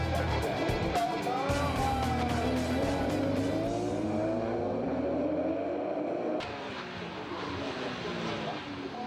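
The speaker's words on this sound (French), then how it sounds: "la Porsche Carrera Cup dispute sur le circuit de Manicourt une course en nocturne" Porsche Carrera Cup race cars from 2005 roar around the Magny-Cours circuit in a night race, engines rising and falling in pitch as they pass close by, under continuous excited commentary.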